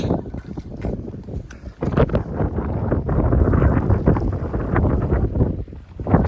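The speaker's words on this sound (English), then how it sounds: "it's very windy" Strong gusty wind buffets the microphone outdoors at Swains Greave, a loud, continuous roar that swells and dips without any speech.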